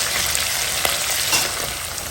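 Tempering spices with salt crackle and sizzle steadily in hot oil, a loud, continuous, dense hiss close by with no talk.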